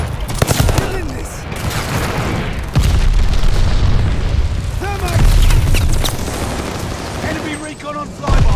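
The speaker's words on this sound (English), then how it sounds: "Enemy's got a glide bomb incoming." A glide bomb blows up in the shooter Call of Duty: Vanguard, with heavy booms and rolling blasts amid ongoing gunfire and battle noise, loud and close, while voices are heard through the chaos.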